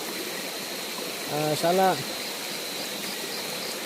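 A river flows past its bank as a steady, hissing wash of moving water, with someone briefly speaking over it partway through.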